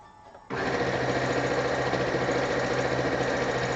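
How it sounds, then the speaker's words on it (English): A sewing machine stitching binding onto a quilt starts up abruptly after a short pause, then runs as a steady, close, rapid mechanical whir with rhythmic needle chatter. "So now I'm sewing both of them"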